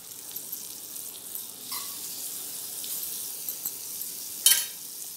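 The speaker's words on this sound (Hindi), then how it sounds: "हम इस तरह से मक्खन लगाकर सेंक लेंगे।" Bread sizzles gently as it toasts in butter in a pan for a cheese corn double decker sandwich, a soft steady frying hiss with a few small crackles and one sharper scrape near the end.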